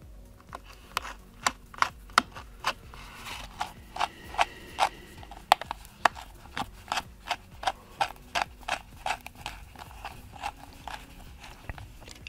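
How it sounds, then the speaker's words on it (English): Tiny screws are driven back into an iPad charging port with a small screwdriver, making a quick series of faint, crisp ticks and clicks in an irregular rhythm, close and quiet, without talking. "Next step, screw back the charging port screws."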